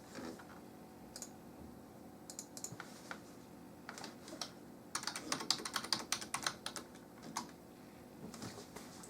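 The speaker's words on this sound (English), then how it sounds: "I'm just going to quickly type the password" A password typed on a computer keyboard while connecting through Windows Remote Desktop, with quick light key clicks in irregular bursts, densest in a rapid run midway, heard close and alone.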